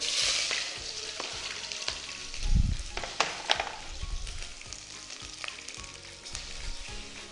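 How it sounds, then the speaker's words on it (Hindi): Sliced onions sizzle and crackle in hot oil in a pan, a steady close frying hiss with a thump and stirring scrapes partway through, no voices. "यहां से मैं ऑयल में प्याज ऐड करें"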